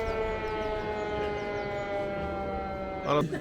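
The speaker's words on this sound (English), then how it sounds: "So we just had a siren go off" A siren wails steadily throughout, its layered tones held at a constant pitch, with a brief clatter near the end.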